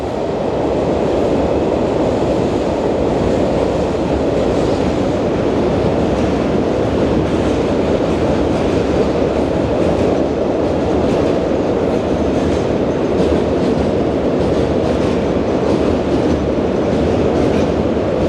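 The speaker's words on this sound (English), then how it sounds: "Freight train rumbling by." A long freight train rumbles past at night, a deep continuous roar with steady clickety-clack of wheels on rails, loud and close throughout without letting up.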